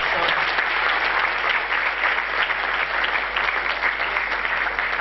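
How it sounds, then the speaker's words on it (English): An audience at a panel discussion gives a steady, full round of applause, with dense continuous clapping throughout and almost no voices. "We deserve a slightly bigger round of applause."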